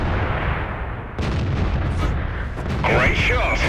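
A tank gun booms in the World of Tanks video game, a heavy blast with a rumbling tail, followed by game voice callouts.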